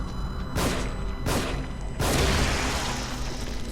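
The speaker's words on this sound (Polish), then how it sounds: "Trzy strzały w heada." Three heavy gunshots from a weapon in the survival horror video game The Evil Within. They fire in quick succession, each a loud booming crack that trails into a rumbling decay, with no talk over them.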